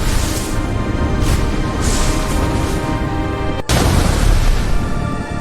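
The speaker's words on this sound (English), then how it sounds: "Thunder is very loud." Loud, rumbling thunder rolls continuously, a heavy wash of noise with a brief dropout before it surges back even stronger.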